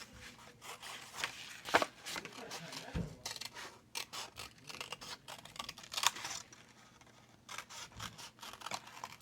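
Scissors cut leaf shapes out of paper up close in a series of irregular snips and crinkly paper rustles, with brief pauses between cuts.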